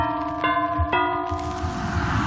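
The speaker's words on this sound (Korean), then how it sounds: "종소리 들리네?" Two sharp bell strikes ring out in the Dead by Daylight video game, each a bright metallic clang with a long sustained ringing tone, followed by a rising noisy whoosh, with no talking.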